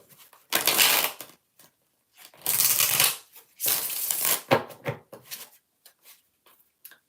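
Three bursts of a deck of cards being riffle-shuffled, crisp fluttering rattles separated by short pauses, followed by soft tapping and handling sounds.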